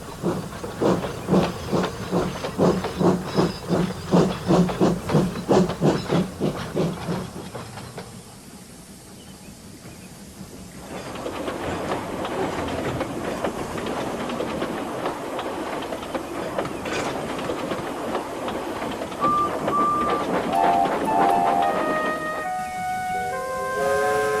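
In the train simulator game Trainz, a steam locomotive shunting coaches to a platform chuffs rhythmically, then hisses and rumbles along with clanking coaches, ending with a few high whistle-like tones.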